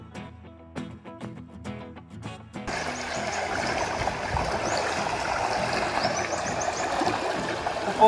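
A river crossed on the way to a neighbouring farm, its water rushing steadily and filling the sound evenly for most of the stretch after a brief quieter start with a few tonal notes.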